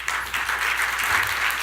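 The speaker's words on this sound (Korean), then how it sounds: "큰 박수 부탁드리겠습니다" Brief, dense applause from a seminar audience at a financial-sector cloud technology talk, a continuous close crackle of many hands with no voices over it.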